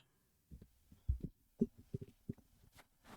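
Faint, low thumping heartbeat in a quick, slightly irregular rhythm, several soft muffled beats with no other sound.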